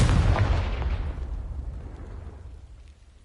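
A Confringo explosive spell goes off in Hogwarts Legacy: one loud, close blast with a broad booming burst that rolls off into a long, fading rumble.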